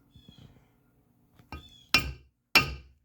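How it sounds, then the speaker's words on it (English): Two sharp metallic ball peen hammer strikes on a Turbo 400 automatic transmission valve body part ring out, close and loud, following a few faint taps and handling clicks. "Then you take your ball peen hammer, you can use a small hammer."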